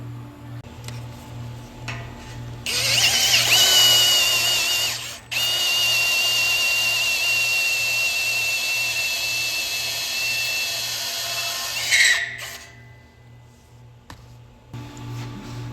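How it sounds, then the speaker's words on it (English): Power drill spinning a tapered reamer to open up holes in a chassis, a loud sustained whirring grind lasting about ten seconds with a brief stop partway, over a steady ticking in the background. "These tapered reamers work very well for opening up your holes where I'm going to weld my nuts"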